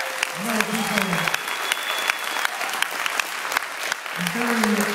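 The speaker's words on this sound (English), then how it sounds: "So how about a round of applause for all those guys?" A seated audience at a startup pitch competition gives a round of applause for the pitchers, sustained clapping with a few voices and cheers rising over it and swelling again at the end.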